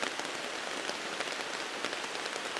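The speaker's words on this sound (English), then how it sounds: "A little bit of sunshine, going to get a shower of rain." Steady rain shower falls on woodland, a dense, even hiss of drops pattering on leaves and ground, moderately loud and continuous, with no voices.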